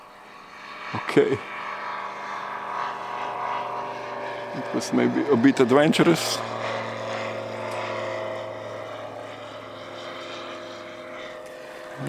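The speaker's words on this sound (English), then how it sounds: "Despite the plane taking off." An F5J electric model glider's propeller motor drones steadily as it climbs after launch at a European Championship flyoff in Deva, Romania, heard under ongoing commentary with a louder burst midway.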